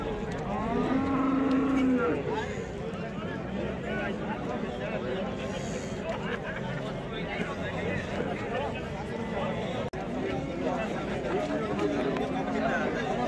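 Cattle moo at a livestock market among bulls, heifers and Simmental cows, with a clear drawn-out low moo near the start amid continuous crowd chatter and someone talking throughout.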